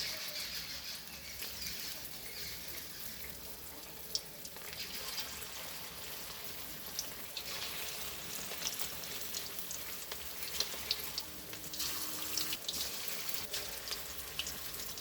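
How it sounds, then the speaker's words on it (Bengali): Pakora frying in hot oil gives a soft, continuous bubbling crackle with scattered pops, fairly quiet and steady, with no talking. "এই তেল দিলাম, গরম হলে পকোড়াটা ছাড়বো।"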